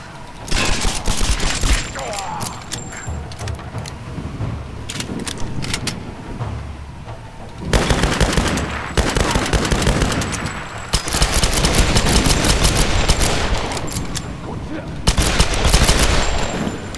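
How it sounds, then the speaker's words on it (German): Sustained automatic gunfire in Tomb Raider as a weapon is emptied: loud, dense bursts of rapid shots in several long volleys with brief gaps, plus occasional mechanical clicks, with a voice speaking German at times. "Ich habe tatsächlich eine Waffe leer geschossen."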